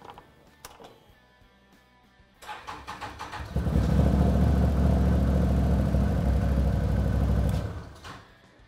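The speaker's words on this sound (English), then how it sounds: "start our engine and warm it up to running temperature" A Can-Am Maverick 1000R side-by-side engine cranks and catches after a few quiet clicks, then settles into a loud, steady warm-up idle for several seconds before being shut off.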